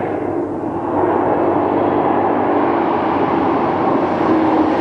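A 2026 Shelby Super Snake with an 830 hp V8 gives a steady, loud, full-bodied roar that holds unbroken for several seconds and builds slightly after the first second.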